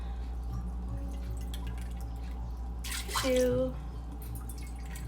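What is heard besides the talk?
pouring water into rinsed dal for sambhar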